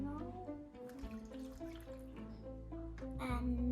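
Water pours steadily into a paper cup set on candle spacers, a continuous close splashing and trickling that grows slightly fuller toward the end.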